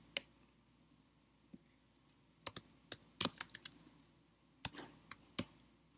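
Keys on a computer keyboard clack in quiet, irregular bursts, a few isolated taps and then quick clusters of typing close to the microphone, with no voices.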